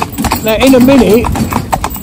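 A little pony's hooves clip-clop at a trot on a firm surface, a regular quick rhythm close by, while someone talks over it throughout.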